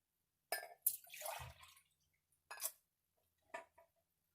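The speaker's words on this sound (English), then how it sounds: "I am going to pour myself a nice cup of hot cocoa" Hot cocoa being poured into a big mug indoors, heard as a few short separate bursts of splashing and trickling liquid with faint clinks, close and quiet, separated by silent gaps.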